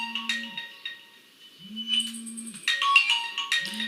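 A phone ringtone plays in three bursts: a steady low tone, followed by a bright warbling melody that starts and stops across the few seconds, heard alone and fairly close with no talking.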